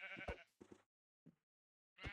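Sheep in the Minecraft video game bleat in a few short, separate calls, close and clear, with brief silent gaps between them.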